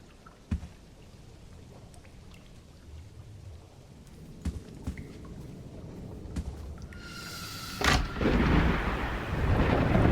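Crackling lightning cue from an entity in the Roblox horror game Doors: scattered sharp cracks give way to a bright hissing buzz around the eighth second, then a loud sustained rumbling roar like thunder, with no voices.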